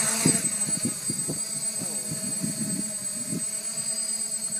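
DJI 550 multi-rotor drone motors start up with a whirring buzz that rises and wavers in pitch as the throttle comes up, steady and fairly close, with no talking.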